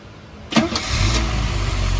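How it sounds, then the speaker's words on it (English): Mercedes 280SL W113 classic roadster cranking briefly after a new alternator install, then catching and settling into a steady, close idle rumble. "we're gonna start the car to make sure everything is good"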